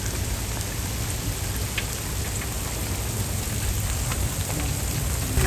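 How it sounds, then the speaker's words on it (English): Freezing rain falls steadily through an ice storm outdoors, a constant dense patter and hiss on icy surfaces with scattered sharper drop ticks and a low rumble underneath, moderately loud and unbroken with no voices. "So basically we have freezing rain."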